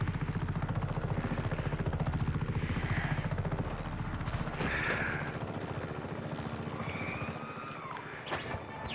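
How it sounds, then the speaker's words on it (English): Helicopter in the video game Just Cause 3, a steady rotor chop and engine whine holding throughout, with brief higher tones and a few clicks toward the end. "I can't drive a helicopter"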